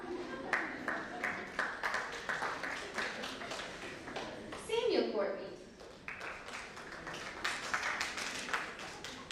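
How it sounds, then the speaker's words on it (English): Scattered audience clapping at a school honors night, light and uneven, running beneath a voice reading out names, with a brief louder rustle midway. "If you feel the urge, I suppose you can clap."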